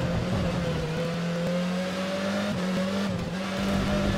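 F1 car in the F1 2013 racing game running off the track after a missed turn-in during qualifying in Australia, a steady high engine whine holding near and loud throughout with slight pitch wobbles and no talk.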